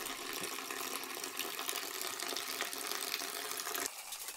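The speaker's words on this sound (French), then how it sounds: "Je peux maintenant transvaser le mou dans le seau de fermentation qui a été soigneusement désinfecté au préalable." Homebrewed IPA beer wort poured into a disinfected fermentation bucket, a steady close splashing, gushing pour lasting several seconds before easing slightly near the end, without talk.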